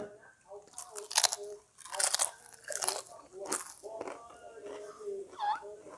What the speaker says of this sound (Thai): ลองลองลองลองกัดให้มันดังดังกรุบกราบไหม